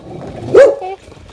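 A dog on a walk through a Hong Kong village barks once, loud and close, with a short whimpering tail, over quiet outdoor background.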